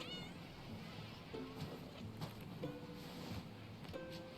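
Meowing of a cat in the World of Tanks video game, a few short tonal calls repeating at intervals over game music and background sound.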